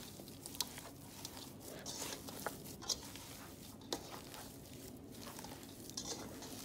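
Salt being mixed into mashed eddoes in a bowl: soft, close stirring and squishing with light pats and clicks, quiet and continuous.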